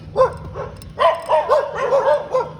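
At a temple in Thailand, a dog barks repeatedly from close by, giving loud, sharp barks and higher yips in an uneven run over a low hum of background noise.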